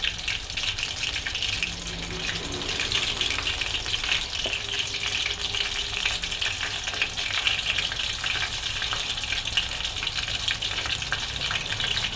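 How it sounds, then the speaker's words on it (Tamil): Anchovy fish bajji frying in hot oil, a steady dense sizzle and bubbling that runs without pause, close and loud, with a faint brief tone partway through. "அதே அந்த எடுத்துகிட்டு இருக்க ஃபிஷ் எல்லாத்தையும் வந்துட்டு ஈவனாக ஃப்ரை பண்ணணும்"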